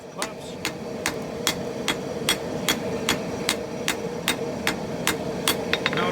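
A hammer strikes a glowing San mai steel billet during forge welding, about a dozen sharp, evenly spaced blows ringing close over a steady roar of the forge fire, quickening into a few faster taps at the end.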